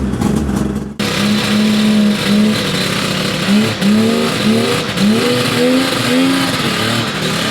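A cold-blooded car engine warms up after a cold start, rumbling at a steady idle and then rising and falling through several repeated revs, loud and close, with no speech.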